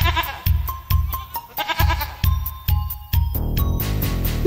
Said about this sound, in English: Little Bo Peep fell fast asleep and dreamt she heard them bleating.